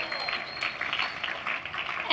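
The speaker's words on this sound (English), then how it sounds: "give yourself a round of applause." Graduates and guests at a university commencement ceremony applaud, with a broad wash of clapping from a large crowd, moderately loud and steady, with some voices mixed in.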